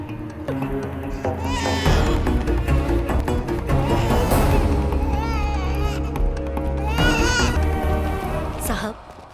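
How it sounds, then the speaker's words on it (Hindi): A baby cries in wailing bursts in a village scene from a Hindi-dubbed action film, loud and close, mixed with other voices and background sound. "वो बस वहाँ एक बच्चा रो रहा था।"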